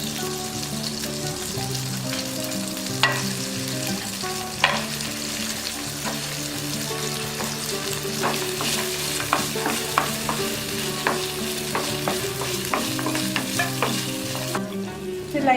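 Cashews and raisins roast in ghee in a kadai, crackling and sizzling steadily close up, with scattered sharper pops and stirring scrapes throughout and no talking.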